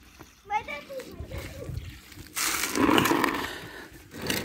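Crucian carp splash and thrash into a pond as they are released, a loud burst of water spray midway, while children and adults call out and talk excitedly around it.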